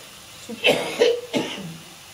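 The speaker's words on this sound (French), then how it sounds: "Désolée, je tousse." Three short, throaty coughs in quick succession, close by, with a little quiet between them.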